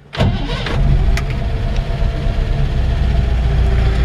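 A 1957 Chevrolet 210 four-door barn find cranks briefly, then its engine catches and settles into a loud, steady idle close by.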